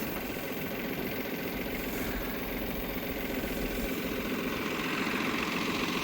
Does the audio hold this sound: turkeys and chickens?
no